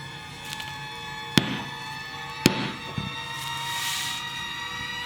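A rock with crystals inside is struck on a table, two sharp loud impacts about a second apart and a softer third knock, set against a steady background hum.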